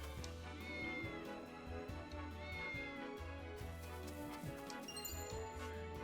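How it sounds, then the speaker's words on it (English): A cat meowing in the video game Triangle Strategy, set over a steady musical backdrop with tinkling chimes; the meows come through clearly, with no talking. "Talk to every kitty."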